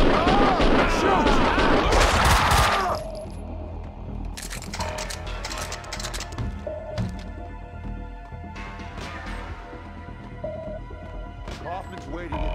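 Gunfire in Max Payne 2, a dense loud volley of shots at the start, then scattered sharp individual shots and impacts under intermittent game voices and music.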